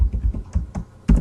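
Quick, close clacks of typing on a computer keyboard, about a dozen keystrokes in an uneven burst. A firmer keystroke lands near the end, and no one speaks.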